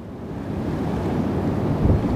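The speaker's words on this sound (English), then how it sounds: "It's blowing absolutely 40, 50 mile an hour winds" Strong 40 to 50 mph wind roars by the River Trent on a winter evening, rumbling against the microphone in a continuous loud gust that swells toward the end.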